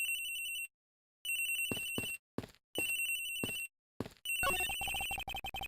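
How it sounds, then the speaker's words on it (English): Electronic telephone ring from the Ace Attorney Investigations game, loud shrill tone bursts repeating in pulses separated by brief silences, with tapping clicks and a denser blipping burst near the end. "Loudest phone on the planet. The ringing's coming from somewhere in here, sir."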